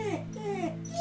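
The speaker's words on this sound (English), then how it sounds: "Yeah, that's my dog." A pet dog whimpers indoors at night, a short close series of high, wavering whines lasting about a second, with no talk over it.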